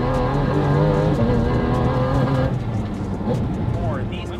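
Porsche GT4 RS engine with carbon intakes, a loud, steady flat-six drone with layered harmonics that shift and drop around halfway, then settle into a rougher, lower rumble as speed changes.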